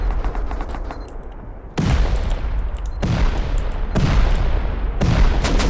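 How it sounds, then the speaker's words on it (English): Explosives go off one after another during a base raid in the video game Rust, with four heavy booming blasts that follow the first at roughly one-second intervals and ring out loud over a steady background rumble. "Explosion after explosion"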